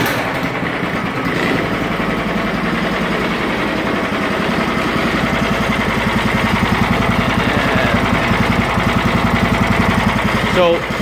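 A SnowDog snow machine engine idles fairly low on full choke, a steady low throbbing pulse running throughout with a person talking over it.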